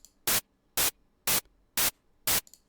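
Five short bursts of harsh synthesizer white-noise hiss, made for a techno kick, pulse at a steady rhythm, each cut off sharply, with near silence between them.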